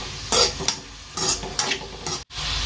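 Cabbage fry with egg being stirred in a pan, rhythmic spatula scrapes and clatters over a steady sizzle, close and fairly loud, with a brief gap near the end.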